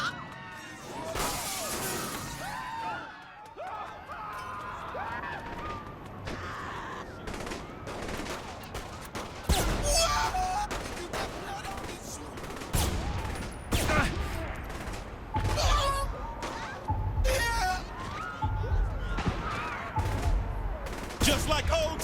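Rapid bursts of rifle gunfire ring out against snipers in the Saints Row: The Third video game, with crashes and impacts mixed in, loud and busy throughout with heavier shots clustered in the second half.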